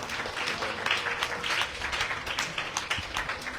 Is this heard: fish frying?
no